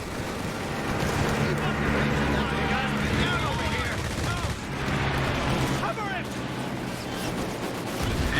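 Machine gun and small-arms fire in the World War II strategy game Company of Heroes 3, bursts of rapid rattling shots amid battle noise and engine rumble, with commentators talking over it.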